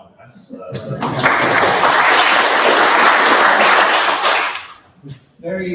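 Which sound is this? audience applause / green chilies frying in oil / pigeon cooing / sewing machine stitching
audience applause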